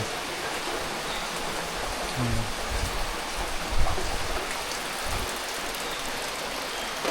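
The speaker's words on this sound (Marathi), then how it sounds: "तो अजूनपर्यंत पाऊस चालू आहे" Heavy rain pouring steadily outdoors in rural Konkan at midday, a dense continuous hiss with no gaps and occasional faint thuds, with no voices.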